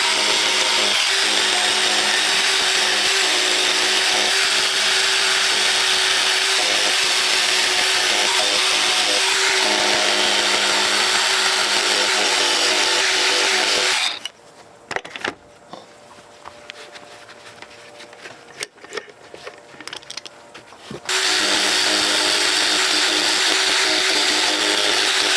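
A power carving tool cuts into a wooden post being scribed to fit against stone, making a loud, steady grinding whine that drops away for several seconds midway and then resumes at full strength.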